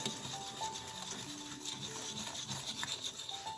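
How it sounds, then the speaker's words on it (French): Sugar and egg yolk being whisked for pastry cream in a bowl, a steady close rasping and rubbing of the whisk that runs continuously, mixed with faint tonal background hum. "ce sont le sucre, mon jaune d'œuf. Je vais mélanger, je mélange bien."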